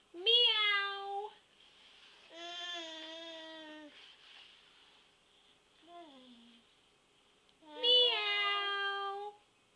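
A cat gives four drawn-out meows, loud and close, with short quiet gaps between them and no talking over them.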